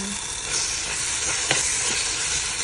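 Chicken curry with smashed tomatoes and chili powder cooks in an electric kettle, sizzling and hissing steadily up close, with a few clinks and scrapes of stirring.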